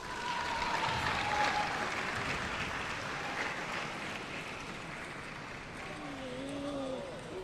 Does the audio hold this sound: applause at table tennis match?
yes